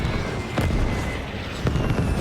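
Artillery barrage in the Gates of Hell video game, roughly 105 mm cannon fire: a few sharp, loud blasts at irregular intervals over a dense, rumbling battlefield din.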